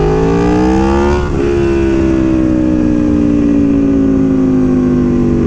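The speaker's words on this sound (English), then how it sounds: "you can see the bike decelerating. That was just off the throttle, no brakes" Aprilia Tuono V4 1100 motorcycle rising in pitch, then rolling off the throttle with no brakes, its loud exhaust dropping and sliding slowly lower as the bike decelerates on engine braking.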